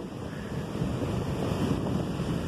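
Ocean waves rolling in to shore make a steady, close, broadband wash with wind buffeting the microphone throughout; no voices.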